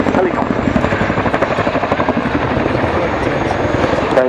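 Chinook twin-rotor helicopter flying at the Waddington air display, a loud continuous rotor thump with steady rhythmic blade beating and engine whine throughout, close and dominant.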